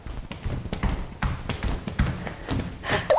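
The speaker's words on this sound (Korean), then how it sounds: "처음에는 실내화를 신지 않고 우리 발소리 한번 내볼까요?" Barefoot footsteps on an indoor floor in a classroom lesson about preventing noise between apartment floors: a rapid run of dull thumps and taps, close and fairly loud, with several feet stamping at once.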